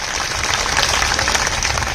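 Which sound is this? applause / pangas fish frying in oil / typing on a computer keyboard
applause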